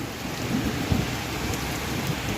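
Steady, dense rain pours down on a farm field in Konkan, a continuous hiss with occasional heavier drops and a low rumble underneath, no voices.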